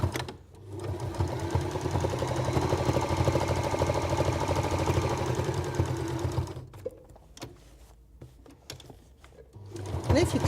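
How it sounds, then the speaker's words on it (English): A sewing machine stitching quilting on old oven gloves: a steady, loud mechanical whir for about six seconds, then it stops and briefly starts again near the end. "when you take that first stitch, the take-up lever pulls the thread straight out of your machine"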